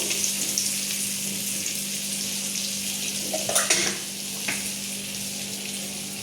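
Butter and oil heat in a pan with a steady, close, loud sizzle and crackle, with a couple of brief clatters midway.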